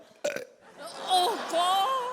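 A loud, drawn-out burp from a performer on a Hindi comedy stage show, following a brief sharp sound and stretching into a wavering, voiced belch over about two seconds.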